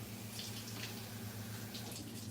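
Water runs steadily from a tap as it is poured into a pot of rice for cooking vegan egg rolls, a continuous splashing stream over a low hum, with no talking.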